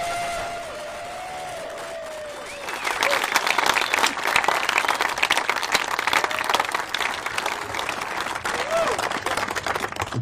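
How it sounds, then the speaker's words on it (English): Audience applause at the disc golf world championships for the FPO lead card, a sustained burst of clapping and cheering from a crowd that swells in after a voice and a few whistles, continuing steadily to the end. "How about one more round of applause for our FPO lead card?"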